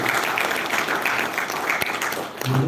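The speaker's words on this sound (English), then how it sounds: "Please, another round of applause." An audience at the Abuja Open House 2023 gives a steady round of dense applause, close and full throughout, fading slightly at the end.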